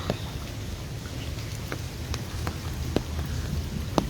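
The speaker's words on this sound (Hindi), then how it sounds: "मगर बादल अभी गरज रहे हैं" Steady rain in Lahore falls in a close, continuous patter with scattered sharp drips, while a low rumble of thunder rolls faintly underneath.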